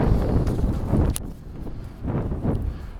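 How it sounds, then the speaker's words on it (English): Gusty wind buffets the microphone in low rumbling surges at Asbury Park, easing off briefly in the middle before picking up again. "Well, it's a little windy today"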